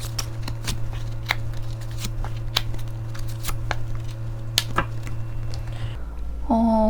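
Tarot cards shuffled up close, with a rapid run of crisp riffling snaps and flutters over a steady low hum, followed by a soft tonal chime near the end, with no speech.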